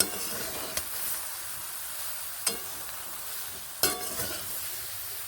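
Jujubes being stirred and fried in a pan for a sweet-sour pickle, with a faint steady sizzle broken by three sharp clanks of a spatula against the pan.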